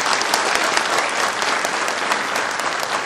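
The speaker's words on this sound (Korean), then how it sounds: "박수 한번 쳐주십시오." A large crowd at a Democratic United Party joint campaign rally in the Busan, Ulsan and Gyeongnam region bursts into loud, dense applause, a continuous roar of clapping that holds evenly for about three seconds.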